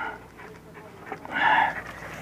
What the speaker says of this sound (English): Here we go, little doggy.